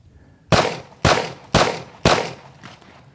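Four loud, close handgun shots are fired at an even, quick pace during a timed reload drill with a short magazine, each crack followed by a brief ringing decay.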